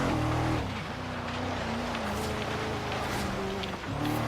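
Porsche Cayenne Turbo engine in Forza Horizon 3 on an uphill climb, a steady droning rev that dips briefly on downshifts and settles back, loud and continuous with faint tire and wind noise.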